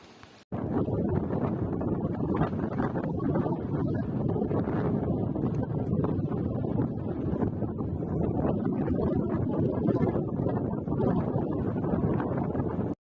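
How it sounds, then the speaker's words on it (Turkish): Strong wind buffeting the microphone on a roadside during a bicycle tour in Turkey, with a constant loud rumbling roar, gusting slightly but never letting up. "Abi çok sert bir rüzgar var ya."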